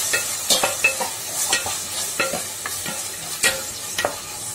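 Two tomatoes and coriander leaves sautéing in oil for crab gravy, a soft sizzle under repeated scraping and stirring strokes of a spoon in the pan, close up with no talking.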